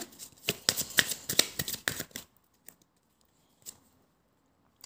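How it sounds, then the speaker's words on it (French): Tarot cards riffled and shuffled close up, a dense, papery flutter of rapid card flicks for about two seconds, then silence broken by a single soft card slap as one is drawn. "On va retirer quelques cartes ici."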